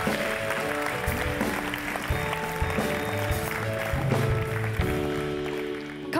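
Audience applause for quiz winners at a university event, steady clapping over a background of music with sustained tones.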